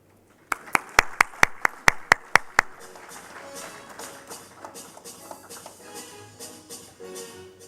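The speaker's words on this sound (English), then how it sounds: "Let's give a round of applause to Shahihi." About nine sharp, evenly spaced claps ring out close by, then give way to a murmur of crowd noise and scattered sounds.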